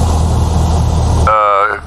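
A propeller aircraft engine in X-Plane 11 drones loud and steady, then cuts off abruptly partway through, leaving a brief tonal whine as it winds down.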